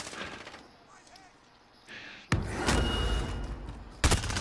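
Gunfire in Call of Duty Warzone, quiet game ambience then sudden bursts of close, loud shots and rattling automatic fire that sustain, with a final sharp burst at the end.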